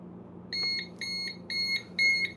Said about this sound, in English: My timer's just about to ring.